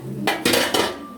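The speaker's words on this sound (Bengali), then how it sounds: "এবার আমরা ঢাকনাটাকে তুলে দেখব" Metal lid lifted off a pot of simmering chicken kosha, giving three close clanks and scrapes of metal against the rim, with a faint hiss between them.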